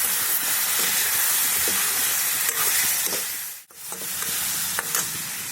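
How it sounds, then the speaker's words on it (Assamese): Meat cooking in a pan is stirred with scraping, clattering strokes over a steady loud sizzle, with a brief lull partway through before the frying hiss returns. "আকৌ এইটো লাৰি দিওঁ।"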